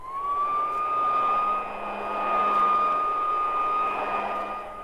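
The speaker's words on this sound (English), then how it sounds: "That's a vacuum cleaner." A household vacuum cleaner runs steadily with a sustained whining hum and a faint airy rush. It swells gently and fades slightly over several seconds, with no one speaking.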